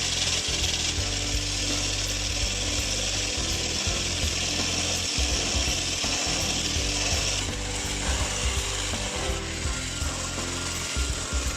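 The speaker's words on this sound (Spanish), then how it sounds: "Ahora vamos a batir nuestras claras hasta que levanten" Electric mixer beating egg whites to stiff peaks for a strawberry mostachón, a loud steady mechanical whir with rattling, grinding texture running nonstop and alone.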